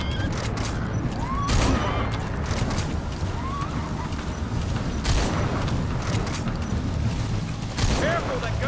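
Sustained battle gunfire and booming impacts from Metal Gear Solid V: The Phantom Pain on PS4, dense and continuous with sharp loud cracks at intervals, mixed under shouted in-game dialogue.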